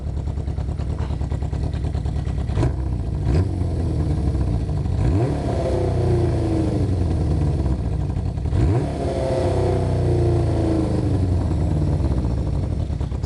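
A Honda CB500/550 motorcycle engine idles low and uneven, with a rough, lumpy rumble and a couple of brief throttle blips partway through.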